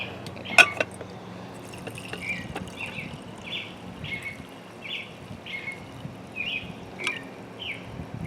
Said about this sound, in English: So pour your tea.